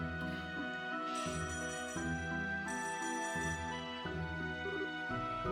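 A phone ringtone from Trails in the Sky SC plays as a bright, tinkling electronic melody in repeating chimed phrases, clear and steady with no talking.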